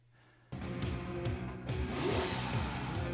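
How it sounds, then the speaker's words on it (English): Eddie Van Halen's 1972 Lamborghini Miura, exhaust close-miked, bursts in loudly after a quiet moment and revs in a continuous roar, rising and surging with shifting engine pitch. "that is Eddie Van Halen's 1972 Lamborghini Miura that he pulled into the recording studio and mic'd the exhaust system"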